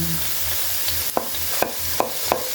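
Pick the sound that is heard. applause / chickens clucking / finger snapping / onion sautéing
onion sautéing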